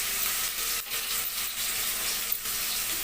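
Tomato with onion paste, turmeric, cumin and chilli powder fries in a pan, producing a soft, continuous sizzle with faint stirring movements and no talking.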